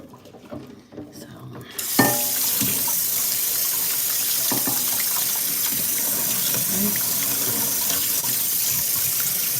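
Tap water runs steadily from a faucet to soak a pan used for meatloaf, starting abruptly after a quiet moment and continuing as a loud, close, continuous gush into the sink.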